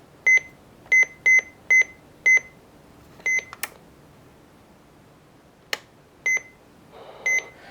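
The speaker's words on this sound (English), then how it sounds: "Oh, that must be the alarm." Electronic alarm beeps from a Midland 74-200 radio in a rapid run of five, then a few more scattered beeps with short gaps, sharp and fairly close in a quiet room.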